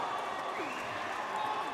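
A basketball crowd at an ABL Invitational game in Batam roars and claps steadily during a late comeback, a dense continuous wash of cheering with a commentator talking over it.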